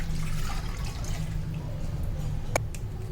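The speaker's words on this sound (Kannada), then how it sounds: "ಕಡುಬು ಇಡಲಿಕ್ಕೆ ನಾನು ಈ ಬಾಣಲೆಗೆ ಒಂದು ಚೊಂಬು ನೀರು ಹಾಕ್ತಾಯಿದ್ದೀನಿ" A jug of water is poured into a frying pan for steaming kadubu, a steady rushing, splashing flow at close range with a brief bright knock near the end.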